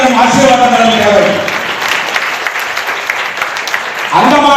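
Audience applause at a Tamil community celebration in the Andamans marking 1,000 years of Rajendra Chola, a broad steady clatter of clapping running through the clip with a speaker's voice heard at the start and end.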